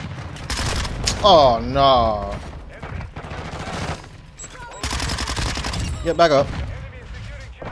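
Gunfire in Modern Warfare 2, rapid bursts of automatic shots heard in short clusters between stretches of a player's excited talking, loud and close.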